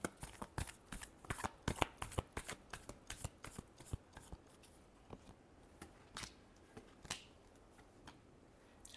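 Tarot cards are shuffled briskly and close up, a rapid run of crisp riffling flicks that slows into sparser taps and slaps toward the end.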